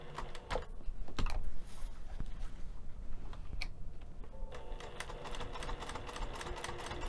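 Sewing machine stitching a tight curve on a fabric storage bin at short stitch length, a fast steady mechanical chatter with brief pauses and clicks, close and moderately loud.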